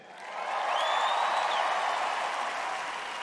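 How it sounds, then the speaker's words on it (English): Pageant audience applauding in a large hall, a dense sustained wash of clapping that swells in quickly and holds steady at full volume with faint cheers mixed in, no talk over it. "Everybody, give Ashley a big hand."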